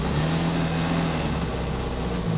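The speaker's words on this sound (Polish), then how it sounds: "bez problemu wóz mi się wyciąga z tych 15 km na godzinę na trzecim biegu" A UAZ 452 van's engine pulls from about 15 km/h in third gear, a steady mid-pitched drone with a low hum that stays loud and close throughout, with no talk.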